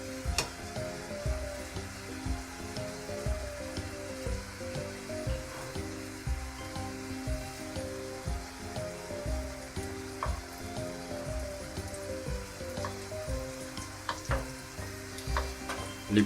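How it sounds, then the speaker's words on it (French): Meatballs sizzle and fry in a hot oiled pan, a steady close crackle with light stirring and scraping, no voices. "Une fois que votre poêle est chaude, boulette insère."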